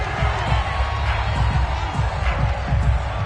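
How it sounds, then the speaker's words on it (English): A stadium crowd shouting while watching a football replay in a PS5 game forms a dense, steady roar of many voices, loud and continuous throughout. "Plenty of shouts from this crowd as they watch the replay."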